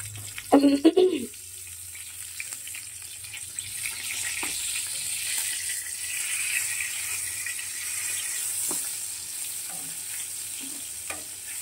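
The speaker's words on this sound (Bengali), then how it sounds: "বেগুন ভাজা বসিয়ে দিয়েছি।" Eggplant slices fry in hot oil in a pan, a steady close sizzle that follows a short clatter at the start, with faint scrapes and stirring sounds throughout and no talking.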